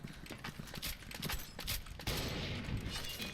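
Rapid bursts of gunfire crackle over a dense, rumbling backdrop in the video game Special Force 2, with a sharp explosion partway through, all fairly steady and mid-distance.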